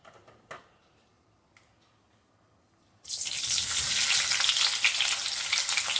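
Sliced onions drop into hot coconut oil in a pan on a gas stove for a chutney, bursting into a loud, steady hiss that follows a few seconds of quiet clinks.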